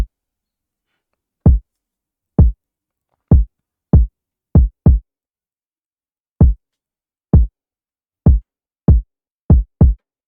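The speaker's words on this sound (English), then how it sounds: "this is how my kick sound like." A punchy electronic kick drum hit repeatedly alone in an uneven pattern, each thump short and low, about a dozen in total.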